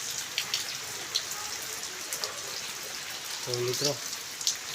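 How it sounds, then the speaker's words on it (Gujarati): Monsoon rain falls on a village, a soft steady patter with occasional louder drops, while someone speaks briefly near the end. "બરાબર વરસાદ આવ્યો"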